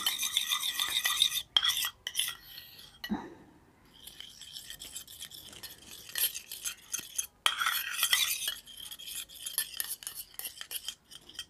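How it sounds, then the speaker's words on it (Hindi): Homemade BB cream is stirred with face powder in a small container, giving close, scratchy scraping and stirring sounds in repeated bursts with short pauses. "ये हमने ले लिया थोड़ा सा फेस पाउडर तो इसको हम अब अच्छे से मिक्स कर लेंगे"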